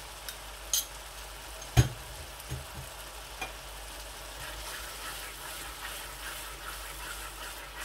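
Kadahi kabab masala sizzling in a pan as two tablespoons of yogurt go in, a soft steady hiss broken by a few sharp knocks and clinks early on, close by with no talk.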